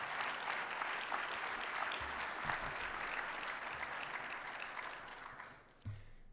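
Convention audience at an opening session applauding steadily, a dense wash of many hands clapping at moderate distance that fades toward the end.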